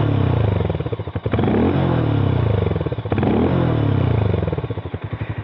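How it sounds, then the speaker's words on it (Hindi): A Harley-Davidson X440 motorcycle idles loudly and steadily after starting, its deep throbbing exhaust note swelling into brief revs twice before settling back to a rumble. "एक बार मैं आप लोगों को इसका एग्जॉस्ट नोट सुना देता हूँ बाइक स्टार्ट करके।"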